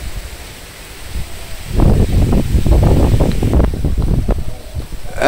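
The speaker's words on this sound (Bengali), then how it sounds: "বাতাস ছুটছে তো মেঘ চলে গেছে" Strong wind gusts across an outdoor village setting on a stormy day, a steady broadband roar that swells after the first couple of seconds and stays loud and rough, with leaves and trees rustling in the blustery air.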